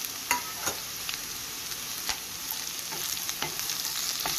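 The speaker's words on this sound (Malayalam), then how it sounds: "ഞാനിനി ക്യാരറ്റും കറിവേപ്പിലയും കൂടെ ചേർക്കുവാണ്." Carrots and curry leaves fry in coconut oil with mung bean sprouts and onion, a steady close crackling sizzle filling the whole stretch, broken by occasional sharper pops and stirring scrapes, with no voices.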